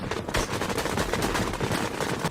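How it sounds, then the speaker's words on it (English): Gunfire in the video game Fortnite rattles in a dense, continuous burst of rapid shots, loud and close, with no talk over it. "Follow the gunshots."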